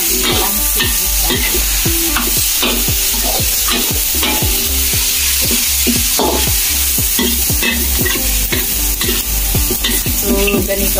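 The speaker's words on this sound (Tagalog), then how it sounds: "Igisa muna natin ang ating pansit" Bihon rice noodles stir-fried in a pan, with steady sizzling and frying throughout and repeated scraping strokes of a utensil stirring the noodles, close and loud, with no voices.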